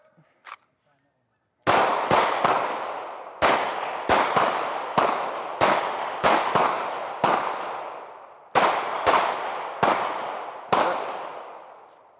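Pistol gunfire on an outdoor range during a shooting-while-moving drill: a loud first shot after a brief pause, then a string of sharp, evenly spaced reports with short ringing decays, some fired in quick pairs.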